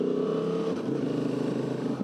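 A Honda XLV 750 Transalp motorcycle's V-twin engine revs with the throttle opened, a loud close steady drone that dips briefly and rises again, with no talking.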